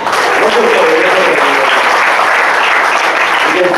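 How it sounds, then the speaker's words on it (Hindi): A church congregation claps in a dense, loud, continuous burst of applause that fills the whole moment without letup, with no single voice standing out. "ताली बजाओ।"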